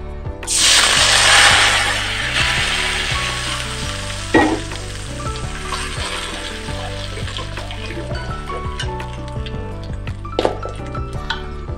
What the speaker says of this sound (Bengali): এখন এটিকে আমি ভালো করে ভেজে নেব।